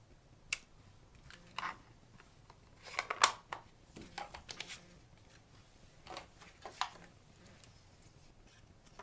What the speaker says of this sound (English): then I'm going to cut it out with my scissors